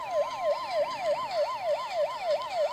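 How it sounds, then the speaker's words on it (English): Wailing siren sounding at the end of a college men's soccer match between Johnson University Florida Suns and Toccoa Falls, rising and falling in a steady rapid cycle about every half second, loud and continuous with no talk. "And that's the siren."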